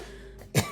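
A single close, sharp cough bursts out after a moment of quiet room tone, loud and brief.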